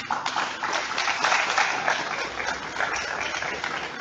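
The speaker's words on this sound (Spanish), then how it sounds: "Nuevamente los aplausos" An audience at a formal ceremony claps steadily for several seconds, a dense, even patter of many hands with no voices over it.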